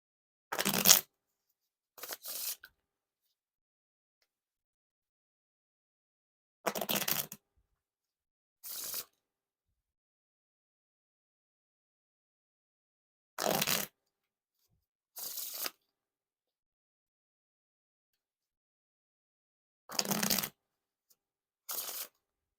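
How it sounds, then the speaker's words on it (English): Red Bicycle playing cards are riffle shuffled again and again, each short crisp burst of flicking cards coming in pairs, separated by long stretches of silence. "And now for the riffle shuffle or bridge shuffle."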